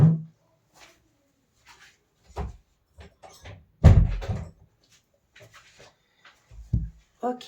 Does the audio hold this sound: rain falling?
no